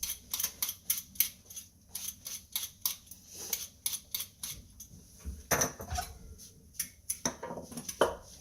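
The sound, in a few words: peeling a carrot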